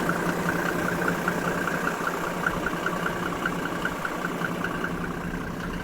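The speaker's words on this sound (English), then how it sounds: "The diesel, that's the sound of efficiency." A diesel vehicle engine idles nearby with a steady, unbroken rumble and a faint rhythmic ticking, running evenly throughout with no voices.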